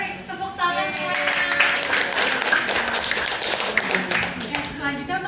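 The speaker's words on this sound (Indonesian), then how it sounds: "Boleh nih tepuk tangan semuanya." A classroom of students claps together for a classmate during a microteaching lesson, a dense burst of applause lasting about four seconds before it fades.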